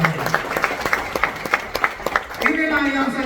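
Scattered audience clapping at a company profile presentation for PT BES, uneven claps over a murmur that gives way to a presenter's voice near the end.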